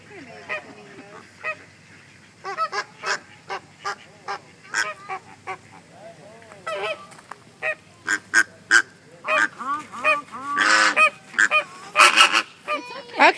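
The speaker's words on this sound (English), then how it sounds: "That's a duck." Ducks at Jungle Gardens give many loud honking calls, near and in irregular bursts that grow denser and louder toward the end, with people talking quietly in the background.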